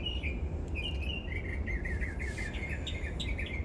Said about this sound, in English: The birds sound so beautiful.